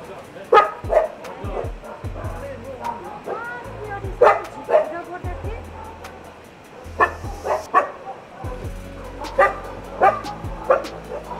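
Several dogs in Kathmandu, Nepal bark and yip repeatedly, some whimpering, with people talking throughout.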